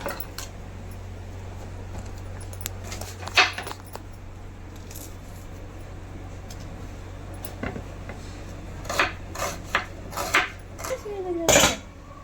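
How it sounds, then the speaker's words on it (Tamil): An onion chopped with a knife on a board gives scattered clicks and taps that grow into quicker, louder cuts toward the end, over a low steady hum, with no talk. "நம்ம இந்த ஒரு வெங்காயத்தை அரிஞ்சிக்கலாம்"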